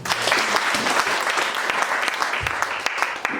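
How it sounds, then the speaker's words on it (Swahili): A church congregation bursts into loud, sustained applause at a sermon, a thick wash of many hands clapping together with a few scattered voices beneath it. "Piga makofi."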